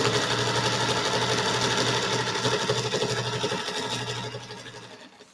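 A sewing machine stitches the seams of a bulky Sparkle Star quilt block in a fast, even mechanical whir with a rapid needle rhythm. It runs close and loud, then slows and fades to a stop at the end.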